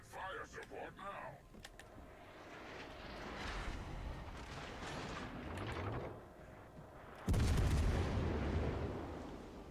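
Naval guns boom in the World of Warships: Legends console game, heavy low rumbling blasts layered under game noise and a voice, building to a loud, sustained burst of broadband firing near the end.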